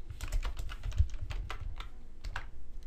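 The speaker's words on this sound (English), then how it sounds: "So we'll type in our login name" Fingers tap out a login name and password on a computer keyboard, a quick uneven run of close, crisp key clicks with a few short pauses.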